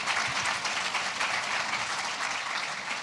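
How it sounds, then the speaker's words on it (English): An audience at a small business financing panel event claps in steady, dense applause for the panelists, sustained evenly and fairly loud from start to finish. "Give them a round of applause."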